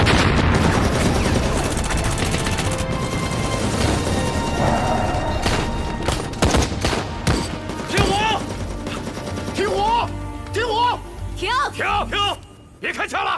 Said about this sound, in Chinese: 停！ 别开枪了！